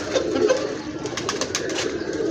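Teddy and Dabba cross-breed pigeons coo in a low, rolling murmur, close and steady, with a few faint rustles and no voices.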